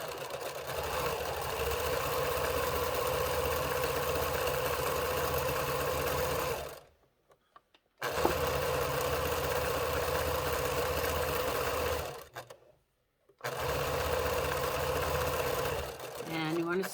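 A sewing machine runs steadily while sewing a pillowcase seam, with a mid-pitched motor whir broken by two short pauses before it starts again.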